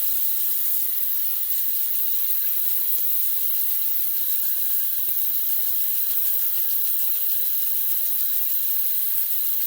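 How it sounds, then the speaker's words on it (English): A shaving brush dense with leftover soap rinsed under a running tap, giving a steady, loud, unbroken hiss of flowing water throughout with no talk. "Let me rinse it off really quick."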